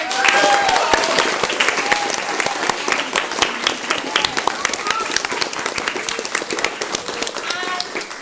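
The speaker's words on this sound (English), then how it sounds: "Can we give them a round of applause?" An audience at a primary school's Year 6 play claps in a loud, dense, sustained burst of applause, with voices mixed in throughout.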